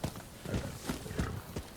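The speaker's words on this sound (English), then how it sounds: "Let's get back on the horse." Horse hooves clip-clop at a steady walking rhythm in the video game Rise of Ronin, close and moderately loud, with each hoof strike landing as a distinct thump.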